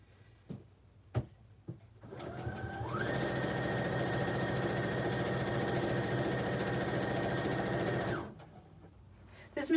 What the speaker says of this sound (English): and then let me find the back stitch on this machine